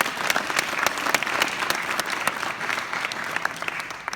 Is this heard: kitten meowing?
no